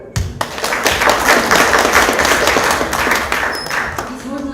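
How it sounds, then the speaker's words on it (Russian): An audience at a public report meeting in Yakutsk breaks into loud, dense applause after a few opening thumps, sustained clapping that fades slightly toward the end as a voice begins to speak. "Здесь можно еще больше аплодисментов."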